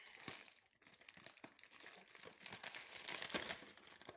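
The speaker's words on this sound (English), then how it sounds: "Crinkling here." Breakfast cereal packet crinkling and rustling continuously up close, a soft but busy plastic crackle with a few sharper crunches.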